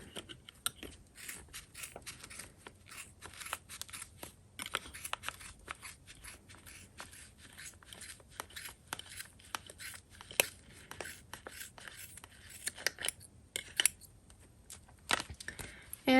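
Repeated snipping of scissors trimming yarn on a crochet pom-pom in a pom-pom maker, many quick soft cuts close by in an irregular, steady rhythm with no speech.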